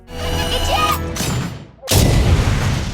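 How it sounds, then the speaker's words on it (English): A loud, sudden cartoon-style blast bursts in after a brief lull, following a busy stretch of music and effects. "After a huge explosion, the sky clears and Sky lands on the ground"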